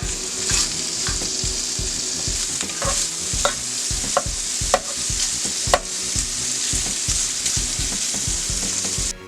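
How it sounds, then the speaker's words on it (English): Bacon sizzles and crackles steadily in a pan that started cold and has since heated, a loud close frying hiss broken by sharp pops and scraping stirs, with no one talking. "We're going to start off by throwing our bacon into a cold pan and then turning on the heat."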